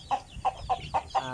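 Peruvian gamefowl chicken settling at its roost on a farm, giving five evenly spaced short clucks, close and clear over a low background hum.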